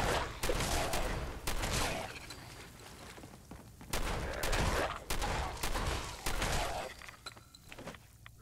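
Gunfire in Fallout 4: several loud, sharp shots come in bursts spaced a second or two apart, each a broad crack with a brief ringing tail. Quieter gaps separate the volleys, and no one speaks.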